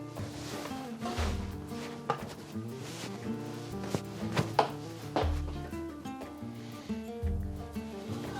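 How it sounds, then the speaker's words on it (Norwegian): A kitchen knife chops onion on a board for a cauliflower soup, with a run of close, irregular sharp cuts and occasional heavier thuds. "Så skjærer vi opp løken."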